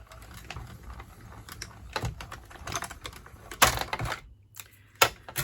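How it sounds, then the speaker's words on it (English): Paper and cardstock fed through a manual die cutting machine while making a Stampin' Up! Halloween treat bag, giving uneven crackling, rolling and clicking bursts with a few sharper snaps near the end, close and fairly quiet. "I'm just reducing the amount going through the machine because there's a lot of good scrap there."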